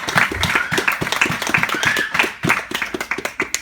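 A church congregation at a Sunday worship service claps in a quick steady rhythm, a crowd of hands beating together with a few voices faintly mixed in.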